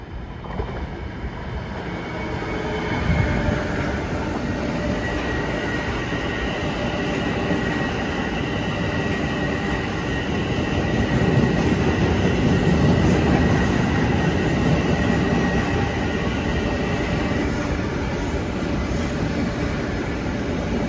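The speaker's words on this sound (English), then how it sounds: "here comes 2768 from Penn Station to Far Rockaway." A Long Island Rail Road train bound from Penn Station to Far Rockaway rumbles steadily through Forest Hills station, a broad continuous roar that swells a little louder as it draws near, with no talk over it.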